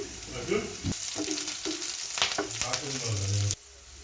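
Chili and onion with curry leaves frying in a hot pan, a steady close sizzle with a few clatters as the pieces go in, ending abruptly.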